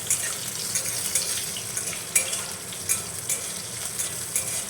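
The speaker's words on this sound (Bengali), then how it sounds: "হালকা একটু নাড়াচাড়া করে নেব।" Chopped onions and cumin frying in a pan, giving a steady close sizzle with faint scraping as they are stirred, and no talk.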